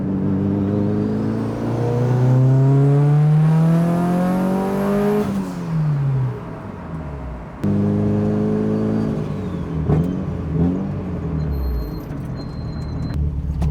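Mitsubishi Lancer Evo engine revving hard through third gear, pitch climbing steadily for several seconds, dropping off, then pulling up again in a second rising run, loud and close with no talk.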